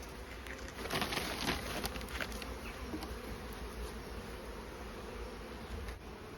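A dense, steady hum of many honey bees inside a hive, fed with fondant ahead of the summer flow, buzzing close and continuously without pause.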